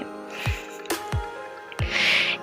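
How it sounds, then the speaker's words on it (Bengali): Grated potato is pressed through a sieve to strain out its juice, giving close wet squishes and a few sharp drips and taps spaced irregularly, with no talking. "আলু গ্রেট করে নেওয়া হয়ে গেলে একটি সাকনির সাহায্যে এভাবে আলুর রস ছেঁকে নিতে হবে"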